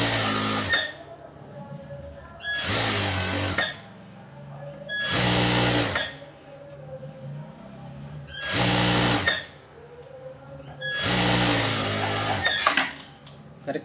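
Sewing machine stitching shorts from khadi cloth, running in five separate loud bursts of a few seconds each with quiet pauses between them, a buzzing mechanical whir.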